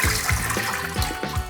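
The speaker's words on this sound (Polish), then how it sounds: "Wywalamy wodę z tego makaronu." Cloudy water is poured off pasta cooked in a dishwasher, a steady close splashing rush with gurgling pulses, heard alone without talk.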